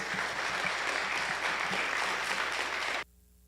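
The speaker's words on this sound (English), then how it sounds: "let's welcome them up with a warm round of applause" A church audience claps warmly in a sustained, even burst of applause that fills the room, then cuts off abruptly to near silence.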